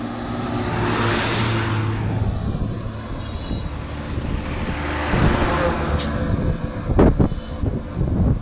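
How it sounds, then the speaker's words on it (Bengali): Labiba Classic bus pulling into Patuakhali, a steady engine and road rumble with wind buffeting, rising slightly and ending with a few sharp clatters. "লাবিবা ক্লাসিক কিন্তু খুব সুন্দর একটি এন্ট্রি নিয়ে পটুয়াখালীতে প্রবেশ করলো"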